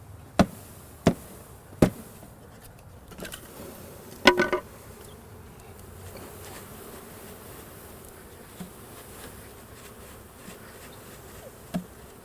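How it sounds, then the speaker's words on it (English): A cluster of honeybees being shaken from a box into a hive hums faintly and continuously. A few sharp knocks and thumps from the shaking stand out, grouped early on, with a lone tap near the end. "And now we're going to shake the bees into the hive."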